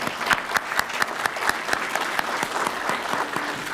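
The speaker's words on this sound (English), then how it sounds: "Graduates, can we give them a round of applause?" Applause from an audience at a 2018 graduation ceremony for the graduates, a steady, moderately loud patter of many clapping hands sustained throughout with no voices over it.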